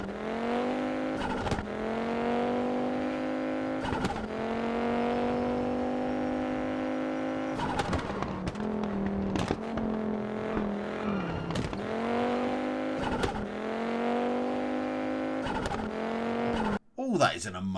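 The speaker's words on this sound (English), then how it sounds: "let's have a little listen quickly just to how good the Audi Quattro sounds in game" The Audi Quattro rally car in the WRC 10 video game, its engine revving hard and climbing through the gears in repeated rising sweeps, with abrupt shift breaks and a brief tire noise near the end.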